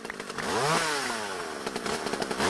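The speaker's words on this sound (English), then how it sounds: "Why do you make chainsaw noises," A chainsaw tree cutter in Minecraft Crazy Craft roars loud and close, its engine pitch swooping up and down as it revs, then settling into a rough, sputtering drone.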